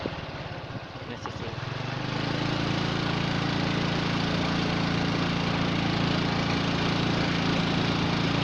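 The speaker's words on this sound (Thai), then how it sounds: "เขากำลังขี่รถออกไป" Motorbike engine rising and then holding a steady loud drone as it rides off along a rural road through farmland, under talk at the start.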